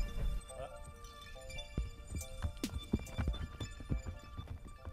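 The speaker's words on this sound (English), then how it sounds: "Working with a wild Mustang is a lot different than working with a domestic horse." Hooves of a wild Mustang thud and scuff irregularly in a round pen, close by, with clinking tack and a steady hum in the background.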